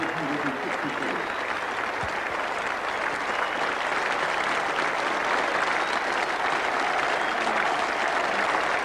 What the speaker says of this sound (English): Great ovation for a great player.